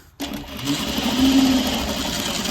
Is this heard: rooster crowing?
no